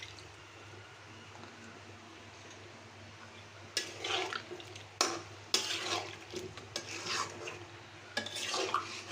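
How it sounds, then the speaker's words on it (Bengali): Water is poured into a pot of potatoes cooking on a clay stove in a Bangladeshi home kitchen, arriving after a quiet start as several bursts of splashing and sloshing with short pauses between them. "আলু সিদ্ধ হওয়ার জন্য সামান্য পানি দিয়ে দিচ্ছি।"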